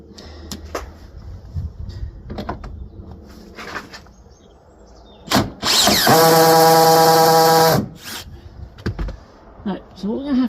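An impact or power tool strains on a seized bolt under a Range Rover L322, with short bursts followed by a sustained two-second run, surrounded by clanks and workshop handling noise.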